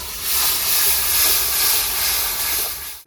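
Raw and ripe tomato paste, made from three medium tomatoes, sizzles loudly in a hot pan with fish head, a strong broad hiss that fades at the end.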